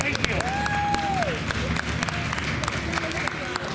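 Audience at a Fright Fest NightScares stage show at Six Flags America applauds steadily throughout, dense clapping with a brief whistle-like tone and some crowd noise mixed in.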